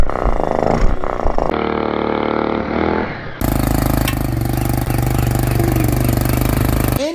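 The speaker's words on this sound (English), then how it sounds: "once you take a look at the engine, this is when you realize it has a 140 horsepower triple two-stroke engine in it" Engine of a Kawasaki Bayou ATV fitted with a 140 hp triple two-stroke, running loud and close, its note shifting partway through before settling into a steady, harsh, full-bodied drone.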